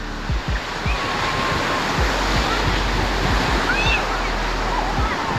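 Sea waves break and wash steadily on Ganpatipule beach, a broad continuous roar of surf close by, with wind buffeting the microphone and faint voices of a family in the background.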